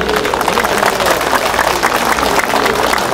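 An audience at a North Korean human rights rally in Seoul breaks into applause, a dense, even patter of many hands clapping at close range, continuous and unbroken throughout.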